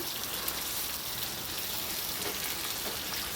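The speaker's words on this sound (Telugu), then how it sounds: "పోపు మాత్రం బాగా వేగాలండి మాడిపోకూడదు" Spices tempering in hot oil for a dosakaya and tomato dal give a steady, dense sizzle and crackle. The sound runs continuously at an even level with no talk.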